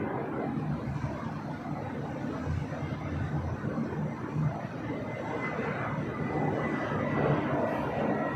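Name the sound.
Delta Airbus A321 arriving at LAX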